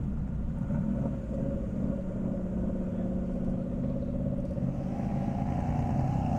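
A 2023 Dodge Hellcat rumbles at an airstrip race event, a steady low engine drone held at a constant level without clear revving, moderately distant and alone.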